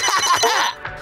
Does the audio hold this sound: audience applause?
no